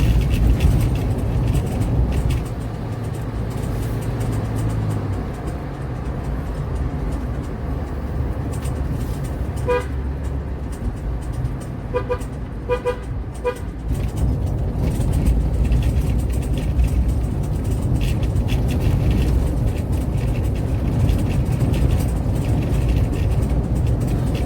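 Car driving at night on a quiet road from Sekayu to Palembang: a steady, loud engine and tyre rumble runs throughout, broken by a short burst of faint ticking or clicking midway.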